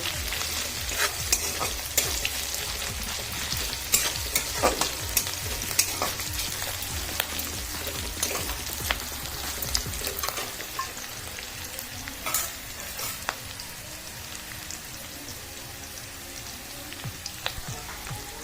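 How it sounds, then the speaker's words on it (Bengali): Onions fry gently in a pan for prawn malai curry, a continuous crackling sizzle punctuated by frequent spatula scrapes and taps, with a low hum fading out partway through. "পেঁয়াজটাকে হালকা করে ভেজে নেব"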